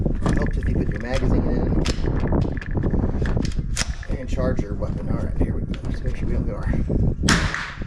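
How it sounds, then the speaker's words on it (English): Sharp gunshot cracks from a Smith & Wesson FPC folding pistol carbine at a shooting range punctuate steady talk, several loud, close reports spaced irregularly across the stretch. "Ideally, I'll be slightly above the bullseye with my first shot."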